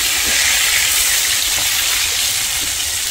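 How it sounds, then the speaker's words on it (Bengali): Fish frying in a pan of hot oil gives off a loud, steady, broad sizzling hiss that holds evenly throughout without pause. "মাছ ভাজা বসিয়ে দিলাম"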